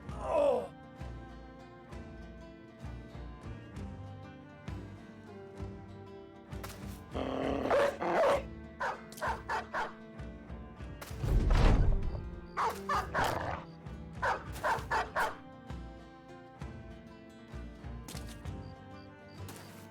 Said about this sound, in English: Aha, there's a dog.